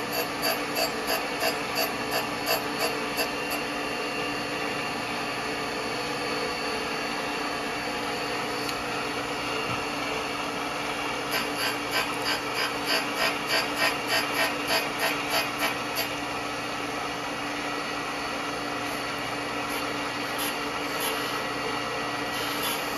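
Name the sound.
surface grinder grinding plugs on precision angle plate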